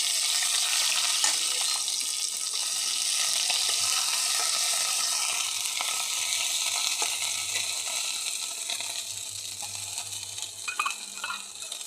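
Mustard seeds and ginger-garlic paste fry in hot oil, making a continuous loud sizzle with scattered crackles and a low hum underneath, heard up close with no voices.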